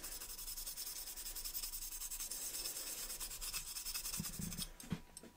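A Scotch-Brite pad scuffs the body of a 1:32 scale diecast Monte Carlo model in quick, continuous rubbing strokes, close and fairly quiet, with a few light knocks near the end.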